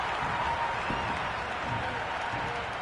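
Crowd noise in the cricket video game Cricket 26 on PS5 after a T20 boundary four, India versus New Zealand: a steady, dense roar of cheering and applause that holds at even loudness throughout, with a commentator's voice in the mix.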